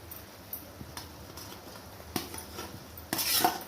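Fried dragon chicken pieces tipped into a pan of sauce and stirred, soft scraping and clinks of a spoon against the pan, quiet and close, ending in a louder burst of scraping.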